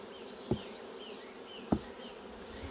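Honey bees hum steadily close by at an open hive, with a couple of brief soft knocks standing out above the buzzing.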